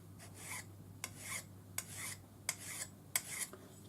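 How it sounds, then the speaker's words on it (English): Swiss No. 2 cut flat hand file rasping across a metal tip, a series of about nine short, bright strokes in uneven rhythm, close and fairly quiet. "the file cuts this quite easily"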